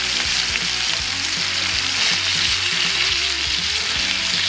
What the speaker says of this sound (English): Now we're also going to add in some butter.